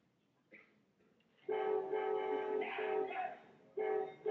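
Amtrak train passing with its horn sounding, two long blasts after a brief earlier toot, heard at moderate distance over quiet background.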